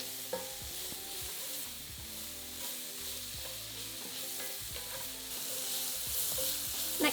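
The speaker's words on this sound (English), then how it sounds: "Add in 1/4 teaspoon of salt, 1/2 teaspoon of black pepper and 3 minced cloves of garlic and stir it all together." Minced garlic with onions and carrots, seasoned with salt and black pepper, sizzling steadily in a hot pan while a spoon stirs and scrapes through them, close and continuous with no voices.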